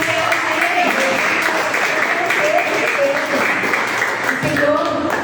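Church congregation applauding steadily throughout, a dense even patter of clapping with voices and shouts mixed in, moderately close and loud.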